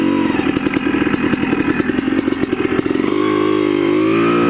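Motorcycle engine running loud and close while being ridden, a rapid pulsing throttle burst for about three seconds, then settling into a steadier lower drone.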